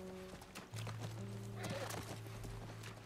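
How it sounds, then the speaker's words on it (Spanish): A horse in the PS5 video game The Last of Us Part I clops its hooves and gives a short whinny over steady tonal game sound, moderately close. "Es nuestro caballo, debe estar ahí."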